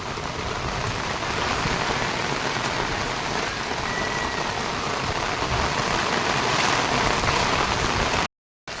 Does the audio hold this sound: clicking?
no